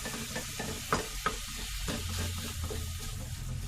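Chicken keema sizzles and fries steadily in a pan, a continuous close hiss with a few brief clinks of stirring.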